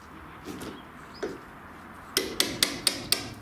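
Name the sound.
hammering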